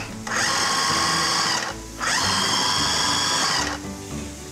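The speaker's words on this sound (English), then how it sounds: "Just give them a few pulses until they grind up and they look like ground beef." A food processor pulsing white and cremini mushrooms, two loud whirring bursts of the motor about 1.5 seconds each separated by a short pause, close and alone.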